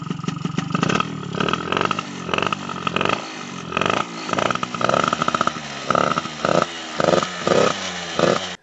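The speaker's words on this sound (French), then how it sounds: "Voilà, je vous ai démarré le 51. Vous entendez un peu le moteur." A small moped engine running close by, a steady buzzing drone that rises and falls in short revving bursts.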